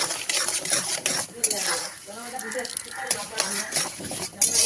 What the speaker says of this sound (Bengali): মুগ ডালটা একটু নাড়িয়ে চাড়িয়ে একটু ভাজা ভাজা করে নেবো।